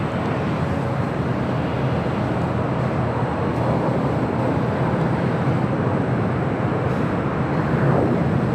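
A KLM airliner taxis at LAX toward the north side for takeoff to Amsterdam, a steady loud jet engine roar heard from the airport without pause.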